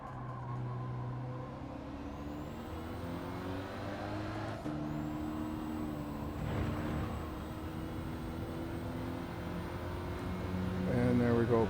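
Race car engine note from Gran Turismo 7 drops and shifts as the car brakes hard at the end of a curb, steady droning revs with gear changes, continuous and close under spoken commentary.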